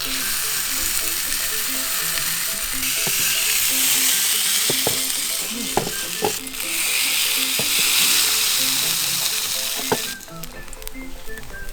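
Rice frying and sizzling in a pan, pressed flat as it cooks, with a steady loud hiss throughout and scattered scraping and clicking from a utensil, the sizzle dropping slightly near the end.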